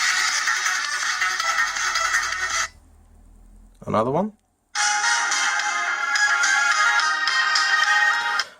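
A DZ09 budget Chinese smartwatch plays a ringtone through its small built-in speaker: bright, tinny melody bursts in two stretches, separated by a short pause where a voice briefly speaks.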